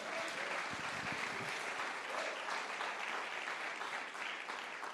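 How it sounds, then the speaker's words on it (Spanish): A church congregation applauds the Lord during a sermon, a steady dense wash of many hands clapping that holds for several seconds at moderate level, with no talk over it. "Alguien puede darle un aplauso al Señor"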